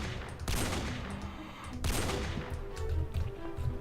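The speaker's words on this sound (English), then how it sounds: "so do a couple shots" Barrett M107 rifle firing in the video game World of Guns, two loud booming shots about a second and a half apart, each with a long rumbling tail, followed by lingering low reverberation.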